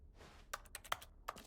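Keyboard typing inside the video game The Stanley Parable: Ultra Deluxe, a few close, crisp key clicks in short bursts against a quiet background.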